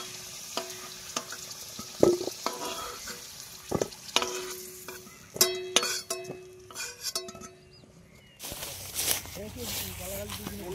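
Potatoes frying in a pan over a cooking fire, with soft sizzling and stirring scrapes and clinks of a utensil, plus a few sharper knocks, while people talk nearby.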